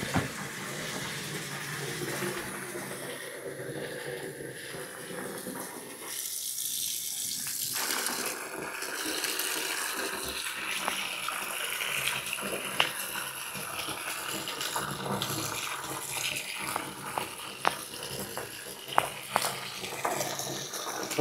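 Water sloshes and splashes steadily in a bathtub as an antique Persian rug, rolled with the pile outward, is moved around in soapy water; continuous close washing noise with occasional louder splashes and no talk.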